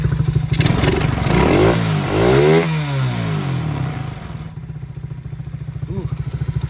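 A four-wheeler engine fires up after sitting all winter, running loud and close with a rough clattering idle that revs up and settles back down.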